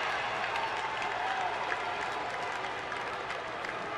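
A baseball crowd at a Cleveland at Arizona game applauds and cheers after a double, a steady wash of clapping and crowd noise at moderate distance.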